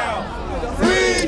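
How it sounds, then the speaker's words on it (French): Crowd gathered in London in support of Julian Assange chanting a slogan in unison, a dense mass of voices with a louder swell rising near the end. "slogan repris en chœur par une foule rassemblée tout à l'heure dans la capitale britannique"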